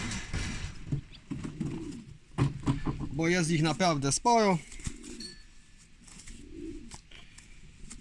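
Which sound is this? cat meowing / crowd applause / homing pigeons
homing pigeons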